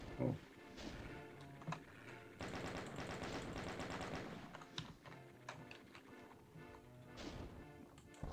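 Rapid, dense gunfire in Doom II (Moonblood mod, village level): loud repeated blasts stacking into a sustained barrage through the middle, with scattered shots before and after and no talking.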